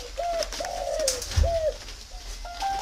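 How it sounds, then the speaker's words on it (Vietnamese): A northern-type spotted dove coos outdoors in the Ba Vì countryside near Hanoi, a steady series of soft, mellow phrases, fairly close, with faint background hiss and a low bump midway. "chim cu gáy miền Bắc Vũ Văn Thao tại Ba Vì Hà Nội."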